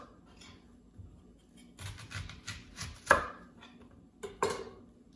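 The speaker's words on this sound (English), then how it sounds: "So let's slice the onion. You should slice it in circles." Knife slicing an onion into circles on a cutting board while making potato and green pepper bhaji, a few scattered, fairly faint chops with two sharper, louder cuts near the end, no talking.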